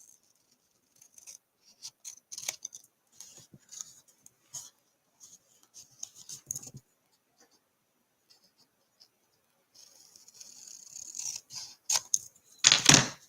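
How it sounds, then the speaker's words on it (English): Paper being trimmed along its edge for a handmade Christmas gift tag, a run of short, quiet scissor-like snips and scrapes in bursts, ending with a louder rustling close-up swipe, no talking. "Hold it down firm and trim along the edge."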